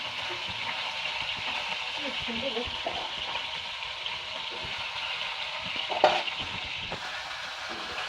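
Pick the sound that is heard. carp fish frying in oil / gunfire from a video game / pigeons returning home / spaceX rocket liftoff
carp fish frying in oil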